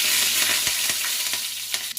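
Hot oil tempering of mustard seeds, cumin, garlic cloves, dried red chilli pieces and curry leaves sizzling in a pan for nalleru chutney, a close, steady crackle with a few sharp pops and stirring scrapes.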